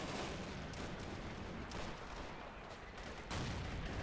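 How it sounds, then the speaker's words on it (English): Tank machine guns from a Panzer H in a strategy video game rattle in dense, continuous bursts amid battle noise, a loud wall of gunfire that briefly thins before surging again. "And the Panzer H on the side, just gunning them down with 3 MGs."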